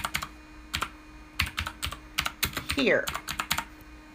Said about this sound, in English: I hate typing one-handed.